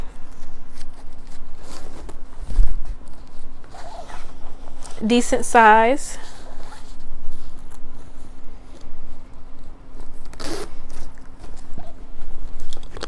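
A zipper on an inside bag compartment rasps open in a quick pull, close and clear, between stretches of casual talk and light handling noises.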